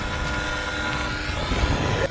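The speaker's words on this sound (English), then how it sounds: "that bloody helicopter parachute, boy." A helicopter flies overhead above the water during a kayak fishing trip, a steady rotor-and-engine drone that holds level throughout and swells slightly near the end.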